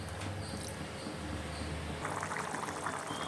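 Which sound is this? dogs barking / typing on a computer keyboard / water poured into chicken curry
water poured into chicken curry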